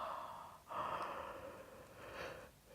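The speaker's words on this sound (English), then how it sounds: "Opening the mouth really wide and doing a lovely big yawn." A long, breathy open-mouthed yawn during a yoga class, close and soft, with a drawn-out airy exhale followed by a second, gentler breath.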